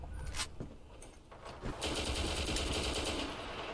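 CZ805A2 rifle gunfire in the shooter game Black Squad, with sharp close shots that open into a sustained rapid burst over game background noise, no speech.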